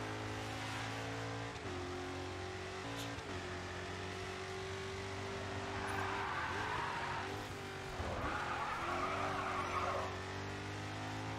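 In the Rough Grid 2 racing game, a race car slides through a tight turn on the e-brake. A steady engine drone carries long tire squeals and skids, and the pitch dips and rises as the car shifts and powers out.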